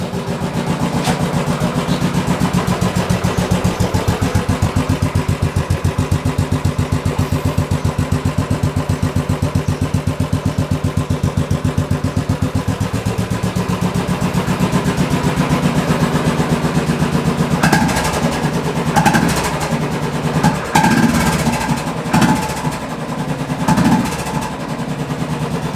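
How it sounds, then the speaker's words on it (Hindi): A Royal Enfield Classic 500 motorcycle, freshly serviced and fitted with a new exhaust, idles with a steady, close, loud thumping beat that grows uneven near the end, with no talk over it. "But let's start this motorcycle."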